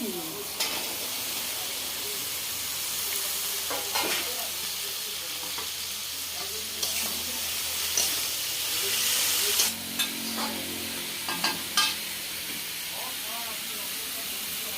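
Vegetables for a prawn and greens ghonto hit hot spiced oil with garlic paste and keep sizzling steadily, a close continuous frying hiss with scattered stirring clinks and scrapes; a voice is faintly heard once or twice.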